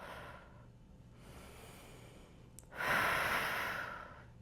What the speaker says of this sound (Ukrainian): Робіть видих через уявну трубочку.